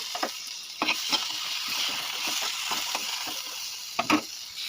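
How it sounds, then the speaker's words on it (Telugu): Paneer fries in hot oil with a steady loud sizzle, broken by sharp scraping knocks as a utensil stirs and turns the pieces, close and without talk. "అందులోనే కొంచెం పన్నీర్ కూడా ఫ్రై చేద్దాం"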